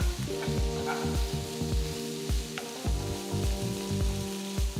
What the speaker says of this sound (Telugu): తరిగిన నాలుగు ఉల్లిపాయలు వేసి వేయించాలి వీటిని బాగా కలిపి రెండు మూడు నిమిషాలు వేయించాలి